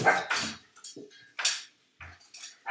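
A dog barks excitedly at foxes in the garden, a rapid run of sharp barks and yips with short gaps between them, moderately loud and with no talking.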